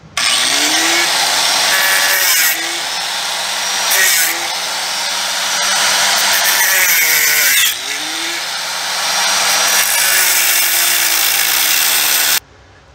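A loud power tool cuts a rivet out of a 1940 Chevy coupe, a harsh high whine sustained in long bursts with brief dips in pitch as it bites into the metal, very close and dominating.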